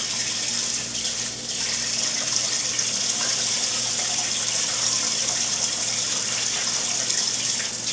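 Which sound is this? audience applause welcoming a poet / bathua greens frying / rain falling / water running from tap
water running from tap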